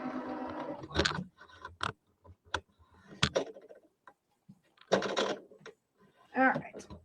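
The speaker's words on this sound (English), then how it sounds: "I'm going to put this in the sewing mode so that the arm will get out of my way." Clicks and clunks from a sewing machine arm repositioning as the machine is switched into sewing mode, a few sharp mechanical ticks spaced through quiet gaps, close by with faint voice in places.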